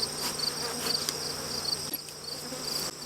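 Honeybees from an opened backyard hive in Swanzey, New Hampshire, with frames being lifted out, give off a steady, close, dense buzzing that holds at an even level throughout.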